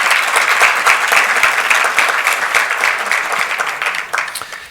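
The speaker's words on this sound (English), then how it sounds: "How about a round of applause for everybody who helped tonight?" Audience at an annual awards dinner gives a loud, dense round of applause, many hands clapping steadily at close range and tapering off slightly at the end.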